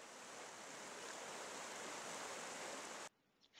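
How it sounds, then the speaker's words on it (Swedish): A small stream with rushing water near Mora, Sweden, a steady broadband hiss of flowing rapids filling the scene, close and continuous before cutting off abruptly near the end. "Det är en liten å som har forsande vatten."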